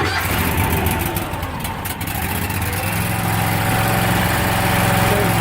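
Kohler 23.5 hp air-cooled engine on a T60 hydroseeder warms up after starting, a loud, close, steady idling drone with rough low rumble and slight throttle change midway, no speech.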